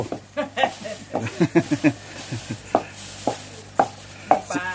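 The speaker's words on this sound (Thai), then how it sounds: "สับให้ละเอียด" Fresh small white river fish being chopped finely with a knife, irregular sharp chops striking a board in quick clusters and separated taps, near and clear over faint background noise.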